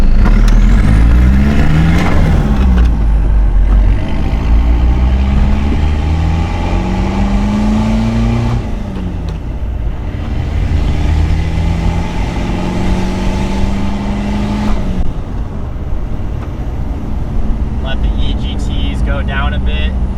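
A Mitsubishi Delica diesel with its EGR valve deleted accelerates hard through several gears, each loud rising engine drone falling away at a shift, with a voice speaking over parts of the run.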